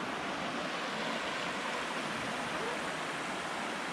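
Red Creek runs through a deep mountain gorge over sandstone bedrock, a steady broadband rush of flowing water, soft and continuous, with no other sounds rising above it.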